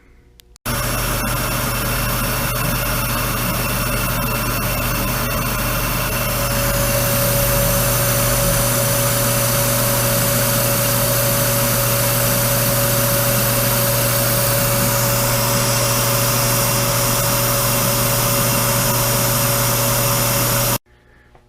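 A milling machine running steadily and loudly at a workshop, used for cutting a new spur gear during a Boyar Schultz refurbishment. It gives a continuous mechanical hum with a steady whine that holds throughout, with no talk.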